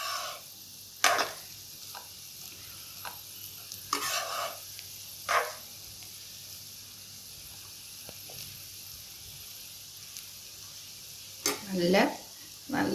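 Paneer fried rice being stirred in a hot pan, with a faint low sizzle and sporadic scraping and clinking of the spoon against the pan, quiet overall.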